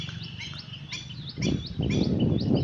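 Bright, repeated bird chirps and trills ring out over a low, steady background rumble that grows louder partway through.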